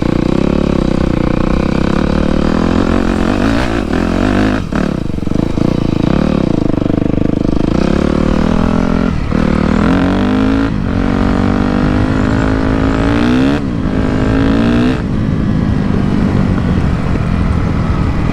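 A Yamaha YZF 250 motorcycle with a freshly ported carburetor runs loud and close, its engine revving up and dropping back repeatedly through rising and falling pitches with no voices.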